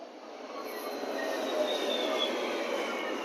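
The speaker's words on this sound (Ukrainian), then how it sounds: "а зараз і львівський трамвай, одиничка з вокзалу" Lviv tram route one running from the railway station: a continuous rolling rumble with faint high wheel squeal and whine, steady and fairly close, no talk.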